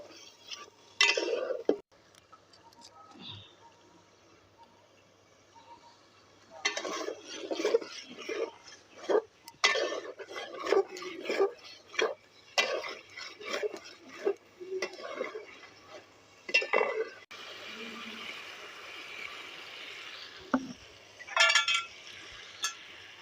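Fried potatoes being stirred and sautéed in a pot for egg and potato dum biryani, with intermittent scraping and clinking of a spoon against metal, soft sizzling underneath and quiet pauses between strokes.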